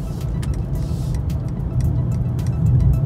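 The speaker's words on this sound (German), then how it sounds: "Jetzt beschleunigt er von selbst auf die wahrscheinlich 130 km/h" Mercedes E53 AMG accelerating by itself under Distronic cruise control, heard from inside the cabin as a steady low engine drone and road rumble, rising slightly toward the end with no voices.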